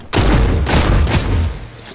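Gunfire in The Cycle Frontier video game, a loud close burst of rapid shots that booms at the start and decays over about two seconds.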